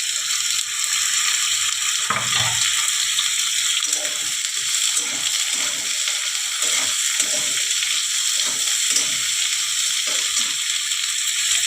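Chopped onion, garlic and ginger fry in a pan, giving a steady, loud high sizzle through the whole stretch, with faint scrapes and taps of stirring underneath.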